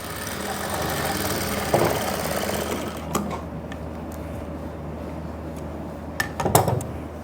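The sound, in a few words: sewing machine stitching a pant seam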